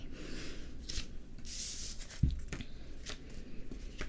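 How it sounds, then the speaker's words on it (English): Playing cards shuffled close up in quiet, with soft riffling and rubbing bursts, a sharp tap partway through, and papery sliding throughout. "I'm just gonna shuffle these since clearly they have not been"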